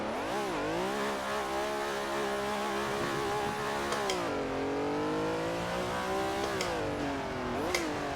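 A vintage race car engine in the Assetto Corsa racing game revs hard through a run of gears, a loud close rasping howl climbing, dropping on shifts and climbing again across several pulls.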